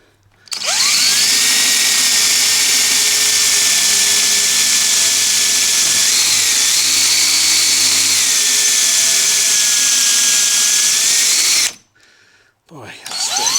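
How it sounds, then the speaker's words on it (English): A power drill with a 1/4 inch bit whines loudly and steadily for about eleven seconds while drilling for a Polaris Ranger street kit install, its pitch dipping briefly as the bit bites in, then stops abruptly. "Now I'm just going to go through and drill with a 1/4 inch"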